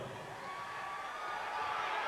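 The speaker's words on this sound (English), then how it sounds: "The place is going crazy" A large arena crowd roars before the 1994 WWF King of the Ring, a dense sustained wash of cheering that swells slightly, with voices mixed into the din.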